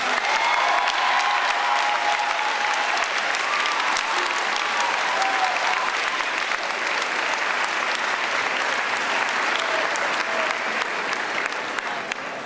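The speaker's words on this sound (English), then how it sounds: "can you please give a round of applause to Nathan Payne?" Sustained applause from the audience at a middle school graduation ceremony, a dense, even roar of many hands clapping that continues for the whole stretch and tapers slightly at the end.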